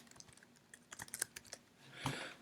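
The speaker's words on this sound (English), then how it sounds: "I'm going to start typing here where it says start your title" Quiet, close typing on a computer keyboard, a short irregular patter of soft key clicks followed by a slightly louder burst at the end.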